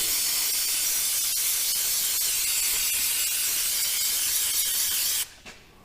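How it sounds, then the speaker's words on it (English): Brake cleaner sprayed from an aerosol can onto a Farmall 806 tractor part near the tach drive, a loud, steady, continuous hiss lasting about five seconds before cutting off sharply. "I'm gonna hose it off a little with some brake cleaner."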